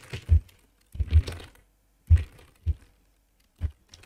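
Keys on a computer keyboard tapped in short irregular bursts, each a sharp close click cluster separated by brief pauses, with no voices over it.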